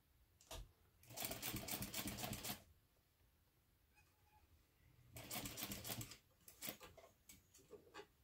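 Sewing machine stitching a fabric clutch bag, two bursts of rapid mechanical chattering of about one and a half seconds each, separated by a quiet pause, then a few short stitching spurts, close and fairly soft.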